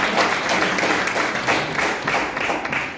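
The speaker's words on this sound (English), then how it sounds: "Y'all can definitely clap for all of us." Audience applause at a talk, a short burst of many hands clapping at moderate volume, steady and fairly close.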